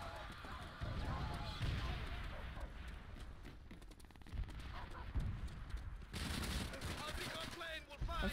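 Type 100 submachine gun fire in World at War, rapid bursts of shots crackling under loud, excited talk, with a sharp shift in the din partway through.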